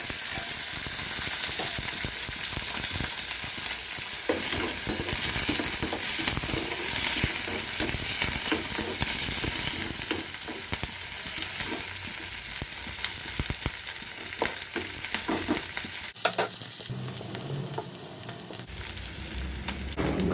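Chopped onions and green chillies fry in a pan with a steady, dense sizzle that crackles continuously at close range, shifting slightly near the end as the food is stirred.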